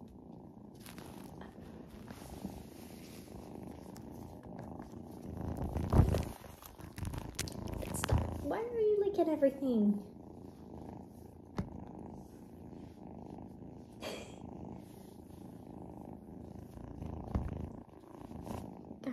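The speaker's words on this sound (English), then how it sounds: "Guys, all three of them are purring." Three cats purring together at close range, a steady low rumble running throughout, with brief rustles and a few soft sliding squeaks partway through and no talking.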